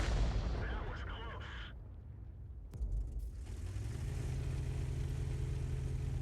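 Artillery rounds fire in a combat video game as a heavy, rumbling low boom with a sharp crack near the middle, followed by sustained low engine-like rumble; a voice talks briefly early on.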